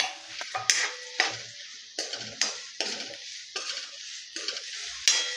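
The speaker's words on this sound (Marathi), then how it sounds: "तर कांदा आणि मिरची आता आपण ह्या तेलात फ्राय करूया." Onion and green chili fry in hot oil in a wok for dum aloo, a sizzling hiss punctuated by about eight sharp, regular stirring scrapes and knocks of the spatula, close and alone.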